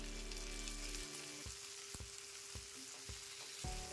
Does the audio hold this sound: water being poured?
no